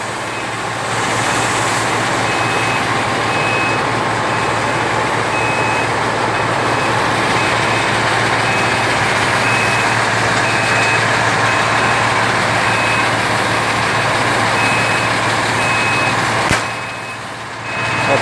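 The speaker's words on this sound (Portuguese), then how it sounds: "Encostar o caminhão de baixo agora e descer a peça." A truck backs up beside a crane cargo lift with a steady series of reversing beeps over a continuous engine rumble, loud and close for most of the stretch before cutting out near the end.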